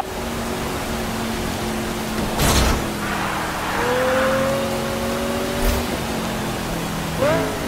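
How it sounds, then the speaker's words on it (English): Cars race at high speed in a Need for Speed Rivals police pursuit on Driftwood Heights, a steady engine drone with rising revs and tire squeals, plus a couple of sharp whooshing passes over a continuous road roar. "I'm in pursuit of a high speed vehicle on Driftwood Heights."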